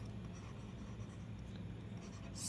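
Pen scratching out numbers on paper, steady and close with no voice, in a class 7 maths lesson on large numbers.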